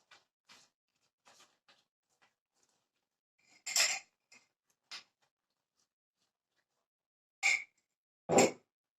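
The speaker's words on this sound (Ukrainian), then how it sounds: "Обов'язково потрібно накрити кришкою." A metal lid is set on a cooking pot. Several short clanks and scrapes sound in a quiet room, with the loudest knocks near the middle and at the end.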